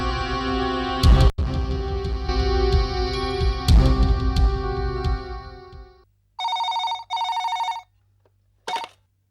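After loud music fades out, a telephone rings with an incoming call: two clear electronic ring bursts close together, then a short third burst, heard alone and close.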